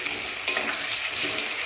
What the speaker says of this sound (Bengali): আর এই যে লাল লাল করে কুমড়োটা ভেজে নিই